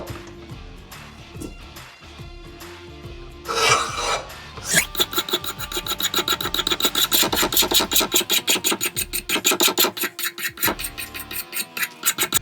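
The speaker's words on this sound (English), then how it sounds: "take my little knife here, and I'm gonna scrape this handle, just kind of scrape that stuff off of there" A small knife scrapes the wooden handle of a cheap hatchet, first in a few slower rasps, then a fast, rhythmic series of close, crisp scraping strokes.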